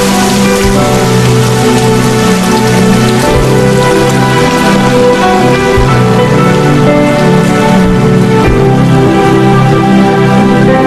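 Heavy, steady rain pours down in a dubbed romantic comedy movie scene. The dense hiss is loud and unbroken, with no talking over it.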